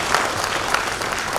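Audience applause for an honoree at a lamp-lighting ceremony, a dense steady patter of many hands clapping together, sustained and fairly loud without a break, with no speech over it.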